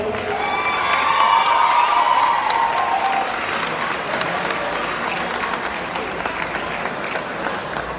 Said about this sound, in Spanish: por favor, el aplauso